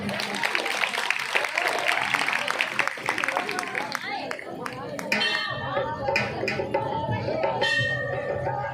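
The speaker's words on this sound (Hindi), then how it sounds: "इनके लिए एक बार जोरदार तालियां।" Audience applause at a religious bhajan jagran event at a temple, a dense burst of clapping that fades midway as bells ring and chatter and voices continue underneath.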